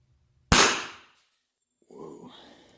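A single sharp, loud gunshot from a .45 pistol loaded with a jelly bean, cracking once and decaying over about half a second, followed later by a short, softer rustling noise.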